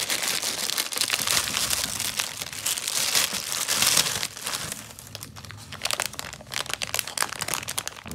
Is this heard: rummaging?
yes